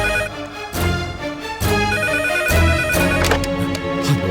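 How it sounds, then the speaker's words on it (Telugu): A telephone in the next room rings with a melodic, electronic ringtone, repeating steadily and fairly loud for the whole stretch. "ఏంటి బాస్ ఫోన్ ఎత్తున రింగ్ ఆగట్లేదు?"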